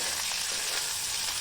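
Small whole okra fry in a pan with a dense, steady sizzle and crackle, close and even throughout, and no voices are heard.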